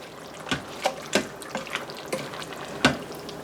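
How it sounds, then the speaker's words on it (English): A spoon stirs gluten-free, dairy-free pasta fagioli in an Instant Pot, giving a few distinct scraping clinks and sloshes against the pot at irregular intervals over a soft background. "And let's stir this up."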